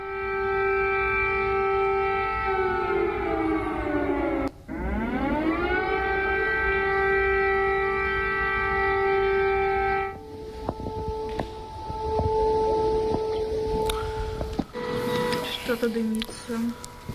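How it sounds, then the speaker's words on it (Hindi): An air raid siren wails loudly over Lviv, Ukraine, during wartime, rising and falling in long sweeping tones, then settles into a steadier drone as scattered background sounds intrude. "लवीव में भी हवाई हमले का सायरन बज"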